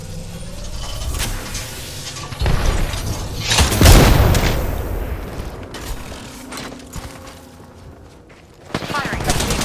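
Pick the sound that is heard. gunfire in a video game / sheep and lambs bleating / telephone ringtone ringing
gunfire in a video game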